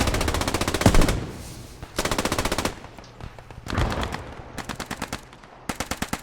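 Machine guns fire in a video game in long rapid bursts and short clipped volleys, dense and loud, with no voices over the shooting.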